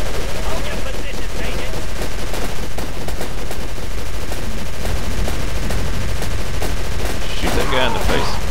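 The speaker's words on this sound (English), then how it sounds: "It's a floor-mounted automatic rifle." Rapid automatic rifle fire from a floor-mounted gun in the video game Call of Cthulhu: Dark Corners of the Earth. Loud, dense, continuous bursts run throughout with no pauses.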